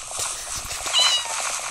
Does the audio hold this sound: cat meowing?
yes